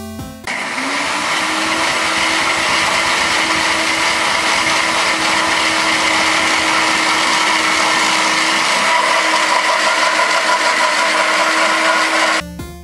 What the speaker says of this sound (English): So I put 12 hot Cheetos into a blender,